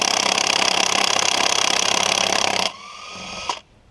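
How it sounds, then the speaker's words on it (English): A cordless impact gun with a 19 mm socket hammers loudly and steadily at close range on the tight wheel lug nuts of a 2005 Ford Ranger, then stops and winds down, followed by a brief clunk. "I got my cordless impact gun."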